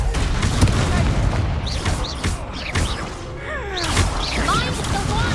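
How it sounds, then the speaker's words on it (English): Confringo spell blasts in Hogwarts Legacy: booming impacts and crackling bursts over a busy bed of game effects and whooshing sweeps, continuous and fairly loud. "Confringo"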